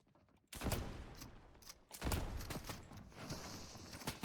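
Gunshots in the video game Escape the Hood crack out in two sharp bursts followed by scattered rapid shots, fairly quiet overall with a clattering, mechanical edge.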